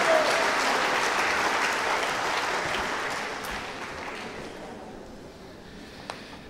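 A large congress audience breaks into steady, broad applause welcoming a visiting priest, loud at first and slowly thinning over several seconds, with no voices on top.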